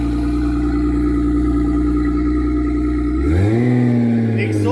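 A loud Mk3 Toyota Supra turbo engine runs at a steady idle, then revs up sharply, its pitch rising and holding near the end.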